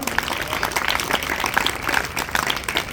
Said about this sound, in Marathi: पुन्हा एकदा टाळ्यांचा कडकडाट करा मुलांनो।